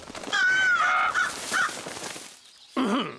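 A raven in the Yakari cartoon gives a long drawn-out caw, then after a short pause a second lower, rougher caw, loud and close, with nobody speaking.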